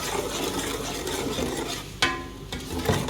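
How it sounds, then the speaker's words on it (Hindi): Onion paste and masala fry in oil in a pan for a beef bone salan, a continuous close sizzle broken by a couple of sharp stirring scrapes against the pot, with no talking. "ये फ्राई होने लगा है और ऑयल जो है ऊपर आने लग गया है"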